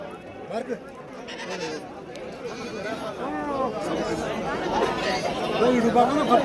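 Goats bleat repeatedly among a crowd at a busy goat and sheep market in Shirur taluka, Pune district, Maharashtra, their calls rising and layered under steady nearby chatter and voices.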